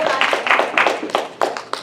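Scattered audience clapping at a regional presentation, a handful of separate, fairly close claps in an uneven rhythm rather than full applause.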